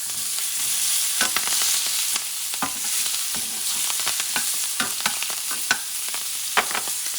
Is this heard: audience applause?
no